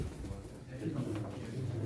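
Domestic pigeons cooing at a pigeon auction in Çorum, Turkey, soft and continuous beneath a steady crowd murmur, with people talking in the background.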